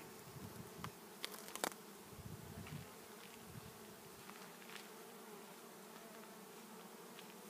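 Bees hum softly and steadily around an open hive, a faint, even drone with a few closer individual buzzes passing by near the start.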